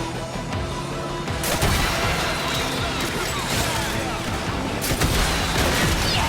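Rocket launcher firing in Warframe, loaded with impact damage, heard as a dense run of booming explosive blasts and crashing gunfire that continues loudly throughout, with a sharp surge in the middle.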